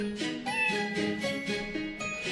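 A cat in the video game Professor Layton vs Phoenix Wright meows several times in quick succession, each tonal call rising and falling, clear and close over faint background music.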